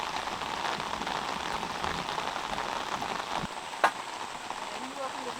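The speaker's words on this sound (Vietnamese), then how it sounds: "Mưa đấy" Steady rain falls on the surfaces around a rural farm home, a continuous close hiss of drops with one sharp click near the end and faint background sounds.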